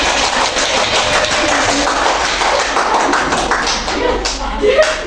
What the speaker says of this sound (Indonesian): Silakan kalian memberikan aplaus untuk kelompok 3.